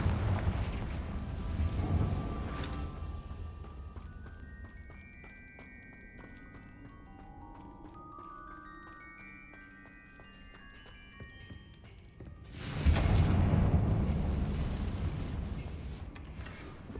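A Confringo fire-blast spell in Hogwarts Legacy bursts loudly at the start, followed by a quieter stretch of magical tones, then a second heavy blast erupts near the end with a rumbling roar.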